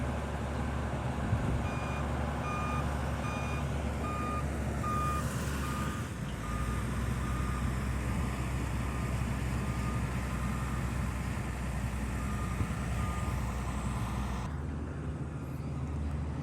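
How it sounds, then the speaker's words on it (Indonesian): At a toll road construction site, queuing trucks idle with a low engine rumble while a reversing alarm beeps in regular evenly spaced pulses, fairly distant, with a heavier vehicle passing midway and no talk. "terlihat cukup banyak sekali truk yang antri"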